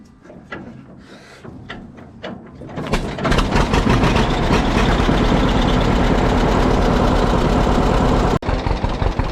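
An old tractor engine rigged to power a homemade log splitter cranks with a few uneven turns, then catches and runs loud and steady with a rough, knocking idle, close by with no talk.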